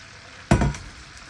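White onion water poured into hot oil while making a homemade hair oil sets off a sudden hiss that crackles loudly, then settles into a softer sizzle within a second.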